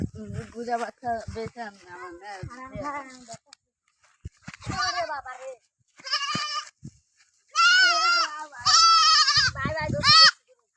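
Goats bleating loudly nearby in repeated bursts, some long and wavering, with people talking in between.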